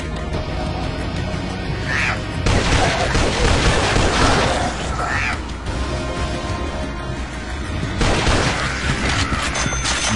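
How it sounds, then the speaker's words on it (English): Bursts of rapid gunfire in the mobile game Dead Trigger 2, loud and close, arriving in several heavy rattling volleys separated by quieter stretches. "A distraction with gunfire."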